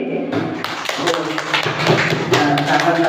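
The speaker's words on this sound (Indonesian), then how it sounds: "Tepuk tangan lagi." A classroom of students claps hands together in a quick, patterned burst of taps, loud and close, with voices mixed in over the clapping.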